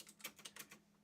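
Several quick, soft keystrokes click on a computer keyboard, faint and close, in a short uneven burst.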